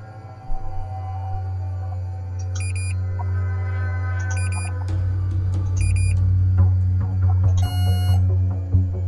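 Electronic alarm beeps from a point-and-click mystery game, short high tones in small clusters repeating every second or two over a steady low hum, ending in a quicker, brighter burst.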